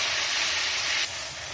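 Water poured into hot spices in a wok for a fish curry, giving a loud, steady broadband sizzle and hiss that drops slightly in level partway through, with no talk.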